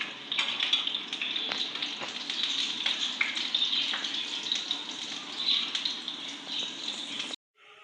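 Chicken nuggets fry in hot oil with a steady, close bubbling sizzle and occasional sharper crackles, continuing for several seconds before cutting off abruptly.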